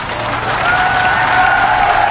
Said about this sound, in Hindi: अभी ताली मत बजाइए